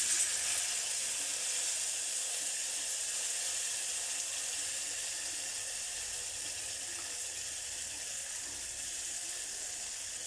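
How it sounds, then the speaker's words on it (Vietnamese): Tomatoes fry in a pan with garlic, giving a steady, soft hiss of sizzling oil that fades slightly over time, with no talk. "bây giờ mình sẽ cho chiên cà vào nha"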